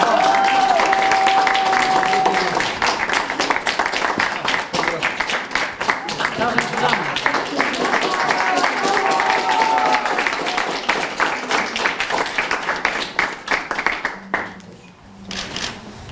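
Sustained crowd applause at a Polish social care home in Mnichów, dense, steady clapping lasting many seconds, fading slightly toward the end, with faint voices mixed in.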